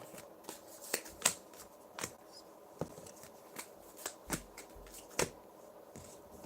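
A deck of playing cards is shuffled, giving a run of sharp, crisp riffles and snaps at irregular intervals against a quiet room, with no talking.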